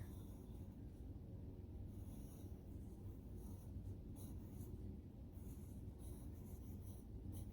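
Faint, continuous scratching of a pencil on paper, soft strokes repeating steadily with no voices.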